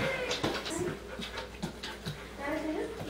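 A dog pants in quick, rhythmic breaths during obedience training, close by and moderately loud, with a few soft whimpers and a person speaking over it.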